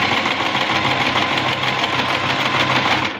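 A sewing machine stitches fabric for a simple kids' summer sewing project, a loud, close, continuous motor whirr with fast needle chatter running unbroken for about three seconds, no voices over it.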